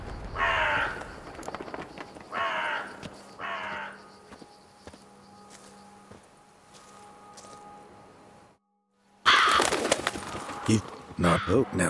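Crows caw in The Witcher 3, three loud harsh calls near the start, then a quieter stretch with distant bird noise, a brief silence, and a burst of raucous cawing and flapping at the end.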